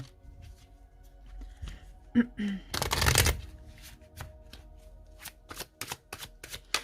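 A deck of oracle cards is shuffled by hand for a card reading: soft slides lead into a loud riffle burst, followed by a run of quick crisp card flicks, all up close.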